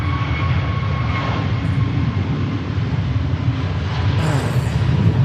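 Steady roar of a jet airliner departing Manchester Airport for Tenerife, a broad continuous rumble heard from a distance and slowly swelling louder, with no talk over it.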